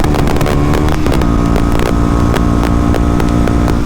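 A KTM Duke 125 motorcycle ridden along a road past a hill, its engine note droning loud and steady throughout with heavy wind rush over the microphone.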